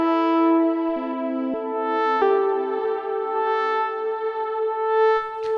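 A modular synth voice patched from oscillator, filter, LFO, VCA and tap delay plays a slow keyboard melody, sustained bright tones with echoing repeats trailing each note, no talking.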